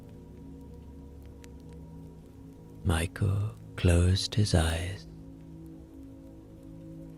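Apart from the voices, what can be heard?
rain falling outside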